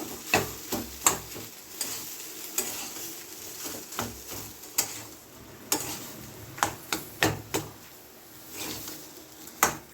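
A spoon stirs and scrapes boiled potatoes with spices in a pan over low heat for a masala dosa filling, giving irregular close knocks and scrapes against the metal with a faint sizzle underneath.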